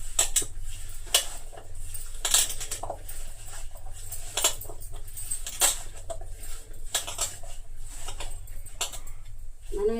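Taro root pieces being tossed with spice powder in a pan, heard as rhythmic scraping and clinking of a spoon against metal, close and fairly loud, repeating every second or so.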